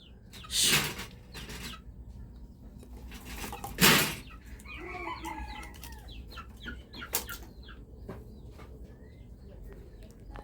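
Chickens cluck in short, scattered bursts in a rural yard, with a few sharper calls and wing flaps, mixed with occasional nearby voices.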